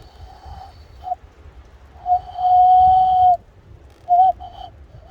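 A person blows a high-pitched whistle to imitate bird calls: a few short chirps, a sustained steady tone of about a second, then a quick double note, each separated by quiet gaps.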